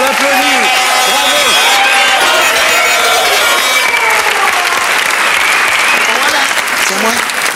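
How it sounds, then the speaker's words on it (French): TV studio audience applauding loudly and steadily throughout, with people talking and music-like tones running over the clapping. "Dorothée, mesdames, messieurs, on l'applaudit"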